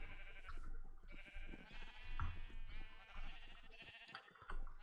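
Sheep in a farming video game bleat repeatedly over steady background game music and ambience, several overlapping calls at moderate loudness.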